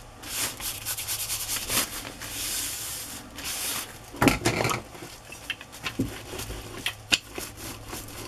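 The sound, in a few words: rubbing glue over a paper tag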